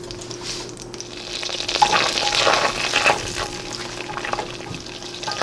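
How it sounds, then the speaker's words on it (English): Butter melts in a pan for keto caramel pecans, giving a soft continuous sizzle and bubbling with occasional light stirring, close and steady with no talk. "now that our butter is almost fully melted"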